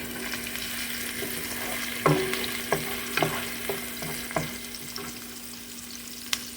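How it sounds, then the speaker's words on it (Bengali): Ash gourd fries with cumin and turmeric in a pan, a steady low sizzle broken by a few sharp stirring clinks and scrapes, close and without speech. "এটার মধ্যে শুধু একটু জিরার গুঁড়া আর হচ্ছে হলুদের গুঁড়া দিব দিয়ে তারপরে এটাকে ভাজি করবো"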